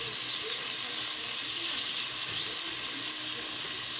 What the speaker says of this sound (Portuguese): Vou mexer para dar uma refogada, para dar uma fritada